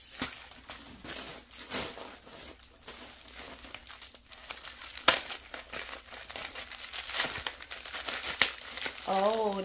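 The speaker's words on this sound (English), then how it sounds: "Now let's open the next bag." A plastic bag holding home decor items crinkles and crackles in bursts as it is opened and handled, close and moderately loud, with someone talking at points.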